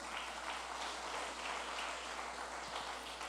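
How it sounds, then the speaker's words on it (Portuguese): Steady crowd applause at a church service, dense and continuous, with the clapping sounding slightly distant and filling the whole moment. "As palmas para Ele."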